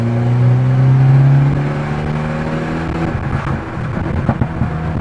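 An Abarth Punto Evo engine revs loudly from inside the cabin, a strong droning note that rises and then settles into a rougher, fluttering idle.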